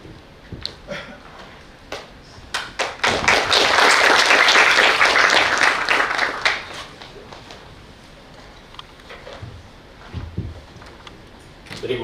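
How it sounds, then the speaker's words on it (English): Audience applause at an AI for Science event: a dense burst of clapping swells after a few scattered claps, holds loudly for several seconds, then thins out into scattered claps and room noise. "So let's give a round of applause"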